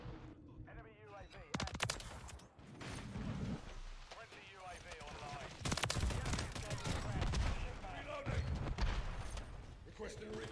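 Rapid, dense automatic gunfire and bursts of shots from Call of Duty: Modern Warfare III on the Shipment map in Hardpoint mode, loud and nearly continuous across the clip with voices talking over it.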